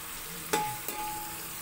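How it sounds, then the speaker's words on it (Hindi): Tomatoes being stirred in a frying pan for chana pulao, a steady soft sizzle with a couple of close clinks and scrapes from the spoon. "टमाटर को अच्छी तरह मिक्स करेंगे"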